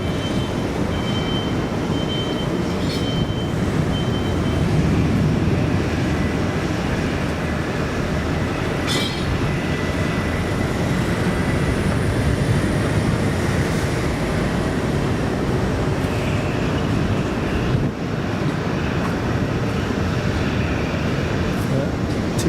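A TUI Boeing Dreamliner near Manchester Airport produces a loud, continuous broadband jet roar that fills the whole stretch, with a voice briefly heard over it.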